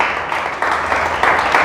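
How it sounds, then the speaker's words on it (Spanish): A church congregation applauds in a steady, continuous wash of clapping that swells in a few places, close and fairly loud, with a faint voice underneath. "Le damos un fuerte aplauso a Dios"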